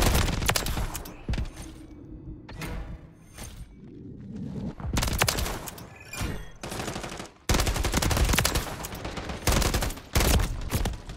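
An SVA 545 assault rifle fires in Call of Duty: Modern Warfare III, close and loud, with repeated rapid bursts broken by short pauses.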